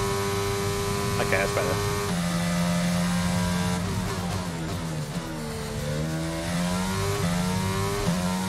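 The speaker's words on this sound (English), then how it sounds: "Deep engine noise, man." Race car engine in the F1 22 video game, a loud, continuous drone whose pitch climbs and dips as it revs, with someone talking over it.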